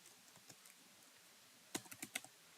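Faint, quiet taps on a computer keyboard come in scattered keystrokes, ending in a short, slightly louder burst of typing, with no speech.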